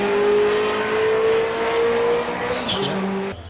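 Ferrari sports car weighing 3,000 pounds accelerating hard, a loud sustained engine tone rising steadily in pitch, then shifting near the end as it pulls away.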